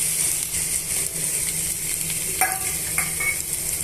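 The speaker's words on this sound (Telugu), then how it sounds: "అవి పొడవుగా కట్ చేసుకొని ఈ ఆయిల్లో వేసేస్తున్నాను" Two large onions, sliced lengthwise, frying in hot oil for a masala dosa filling: a loud, constant sizzle with a couple of brief spatula scrapes near the end.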